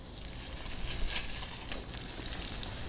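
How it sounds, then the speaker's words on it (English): Steady frying sizzle of large chicken pieces in a hot pan, a broad hiss that swells briefly near the start then settles into a continuous crackle. "Nice sizzle noise,"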